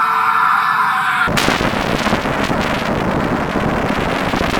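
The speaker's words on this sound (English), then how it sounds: "So, time to make the player explode." A low tonal hum cuts off abruptly into a loud, sustained roaring blast as the player character explodes in a small self-made game jam shooter, the noisy rumble holding steady to the end.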